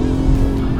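A widened Mercedes-Benz W124 being driven hard on a race track, its engine droning loud and steady at high revs with a strong low rumble throughout.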